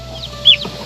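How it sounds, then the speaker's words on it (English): A young Blue Slate turkey poult gives a single short, shrill peep over a steady low hum, close and fairly loud. "I'm so excited about these turkeys"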